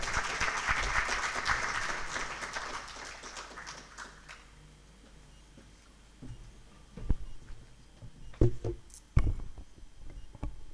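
A tech summit audience applauds in a dense burst that fades after about four seconds, followed by quiet room noise with scattered taps and knocks.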